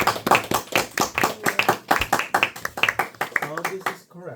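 Classroom clapping for a student in a calculus lesson, a few pairs of hands giving sharp, uneven claps close by, tapering off with a brief voice at the end.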